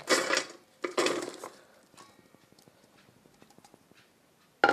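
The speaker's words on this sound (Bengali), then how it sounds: "সমস্ত শাকসবজি আমি এখন মিক্স করব, এটা আগে ঢেলে দিলাম।" Vegetables for a salad are tossed and mixed in a bowl: two bursts of rustling, tumbling pieces, then a run of light rhythmic clicks and taps against the bowl, close and fading quieter, with a final knock.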